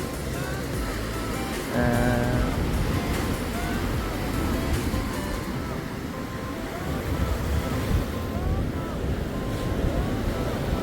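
Rough monsoon sea at Snehatheeram beach, heard from a sea wall: a steady, loud wash of churning waves and surf mixed with heavy wind buffeting the microphone, with no clear breaks between swells.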